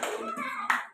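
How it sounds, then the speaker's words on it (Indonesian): A sixth-grade class of children clapping for a classmate group, a short burst of hand claps in a classroom with a voice faintly mixed in. "kasih tepuk tangan untuk kelompok 4"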